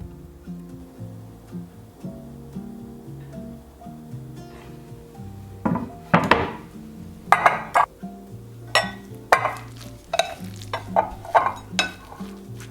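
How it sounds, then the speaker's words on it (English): Shrimp wonton and shumai filling with ginger being mixed in a bowl: steady wet stirring and squelching that grows busier and more rhythmic partway through, with light clinks of a utensil against the bowl and a soft music bed underneath. "Mix everything up."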